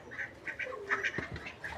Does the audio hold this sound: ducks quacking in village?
yes